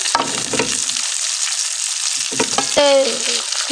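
Pangas fish pieces fry in hot oil, a crackling sizzle with scraping stirring strokes and a brief clatter as pieces are moved in the pan, with no talk.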